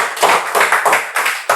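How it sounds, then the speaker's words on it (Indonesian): Live audience clapping on a podcast set, a short burst of hand claps with uneven pulses, close and fairly loud, no voices over it. "boleh tepuk tangan dulu dong buat Buluk"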